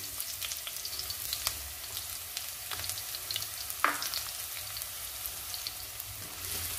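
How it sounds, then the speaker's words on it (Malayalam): Dried red chillies cut in half fry with chopped shallots in a pan, giving a soft, continuous crackling sizzle with scattered pops and one brief scrape, quiet and close. "മൂന്ന് വറ്റൽ മുളക് ഞാൻ രണ്ടായിട്ട് മുറിച്ചതാണ് അതൊന്ന് ഇട്ട് കൊടുക്കേ"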